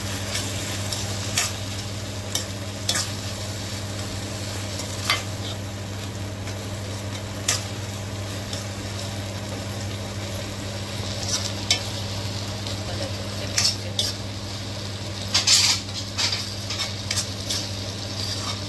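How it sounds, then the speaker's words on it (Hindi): Ground green masala being stirred into a pan for a Goan rohu fish curry: a steady low sizzle under scattered soft scraping and clinks of a spoon against the pan, close by and with no talk. "ग्रीन मसालो जो वाटलेलो पळय ते घालता। बरो करून आता मिक्स करता।"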